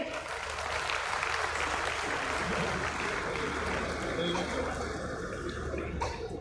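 An audience at a Dasara religious gathering applauds: a steady, dense wash of many hands clapping, heard from a distance and unbroken throughout.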